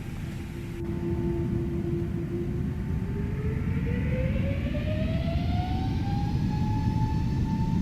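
Twin A321neo jet engines spool up for takeoff in a flight simulator, a steady loud roar with a turbine whine climbing smoothly in pitch over several seconds, continuous and close.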